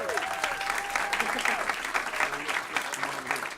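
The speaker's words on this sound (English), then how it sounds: "give her a round of applause" Applause for a diploma recipient at a city council meeting, a steady wash of clapping from the room with a few voices talking over it.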